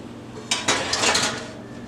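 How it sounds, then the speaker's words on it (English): A prime rib in a metal pan is slid into an oven, a short burst of metallic clanks and scraping against the rack, close and alone, lasting about a second. "I'm going to pop this in the oven."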